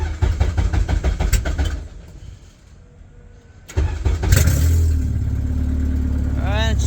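Car engine cranks and catches after an idle stretch, then settles into a steady, loud running note with a brief rev, close by, after some talk earlier on.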